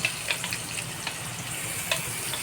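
Chopped chili and garlic paste hits hot oil with cumin, producing a close, continuous sizzle dotted with sharp spitting pops and light stirring clicks.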